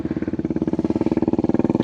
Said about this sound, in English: What I'm going to do is get a little cold start for you guys